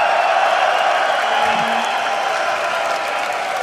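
A large stage audience at the EU LCS esports event in London fills a big hall with a broad, continuous roar of cheering and applause that fades slightly over the moment.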